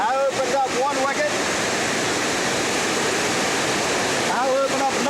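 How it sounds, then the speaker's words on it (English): Water rushes loudly into a canal lock through an opened wicket, a steady broadband roar throughout, with a voice talking briefly near the start and again near the end. "You might be able to see the water rushing in down there now."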